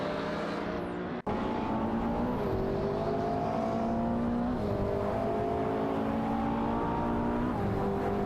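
AI-driven race car engines buzzing around a track, several cars' tones rising and dropping in repeated upward sweeps as they shift and accelerate, loud and continuous, with one brief cut near the start.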